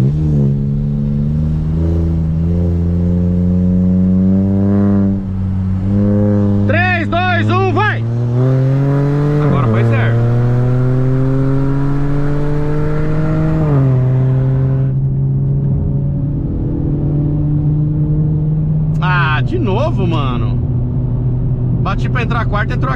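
Turbocharged HB20 TGDI Stage 3 and Ford Fusion 2.0 turbo accelerating hard in a street race, a loud sustained engine drone rising in pitch through the gears with brief shift dips, heard from inside the car.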